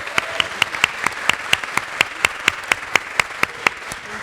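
Clapping at a community meeting, heard as a single person's hands beating a regular, fairly quick rhythm of sharp, distinct claps close to the microphone, sustained evenly throughout.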